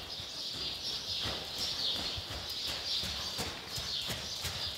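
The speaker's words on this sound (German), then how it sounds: "Diese Pferde haben so eine Art zu gehen." Dressage horses walk at an even pace, their hooves clip-clopping in a steady rhythm of distinct hoof strikes over constant outdoor background noise, with no talking.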